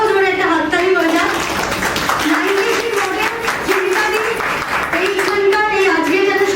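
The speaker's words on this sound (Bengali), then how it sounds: "মাতৃশক্তিদের জন্য একটা আলাদা করে বড় জোরে একটা হাততালি হয়ে যায়" A crowd at a BJP victory celebration rally claps loudly and steadily for the women's wing, while voices ring out over the applause throughout.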